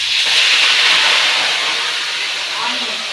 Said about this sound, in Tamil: லைட்டாக அந்த கடுகு நல்லா பொழிஞ்சோடனே